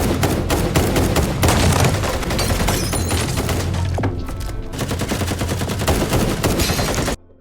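Rapid gunfire in a movie shootout, dense loud bursts of shots with crackling impacts and thuds packed together almost continuously, ending abruptly.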